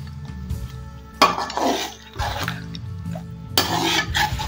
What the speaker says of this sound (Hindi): दही में इसको अच्छे से भून लेते हैं।